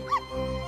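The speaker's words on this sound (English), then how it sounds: "woof, woof, ruff" A short dog bark-like yelp from the Professor Layton vs. Phoenix Wright video game, a single quick yip followed by a sustained tonal whine over a steady musical background.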